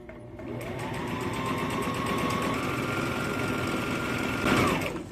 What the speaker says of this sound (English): So I'll probably straight stitch it from here all the way around to here. Okay, straight stitch coming up.